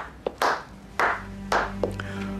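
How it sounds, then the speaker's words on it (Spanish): One person claps hands slowly in a quiet indoor room, three or four distinct, crisp claps spaced about half a second apart, close and clear with a low hum beneath. "permitime que te aplauda"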